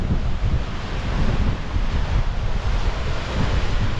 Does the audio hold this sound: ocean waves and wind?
yes